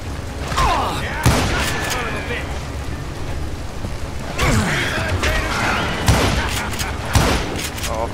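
Gunfire in the Western shooter game Call of Juarez: Gunslinger, with several sharp loud shots spread irregularly across a noisy backdrop of game ambience and mechanical clatter.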